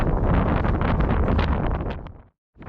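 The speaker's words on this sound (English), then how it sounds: "Oh, this wind's terrible." Strong wind batters the microphone in a loud, roaring rush on a hilltop walk near Alport Castle, then cuts out briefly before gusting back in.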